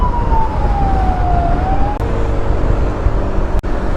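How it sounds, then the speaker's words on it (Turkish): A loud emergency siren wails close by, heard from a motorcycle, its pitch sliding down then up, with two sharp clicks breaking through. "Sirenler açık."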